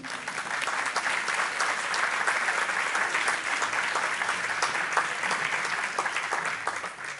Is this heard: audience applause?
yes